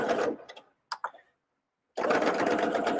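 A sewing machine stitches a fanny pack, whirring steadily up close, stopping for a moment with a couple of clicks, then starting up again at a steady hum.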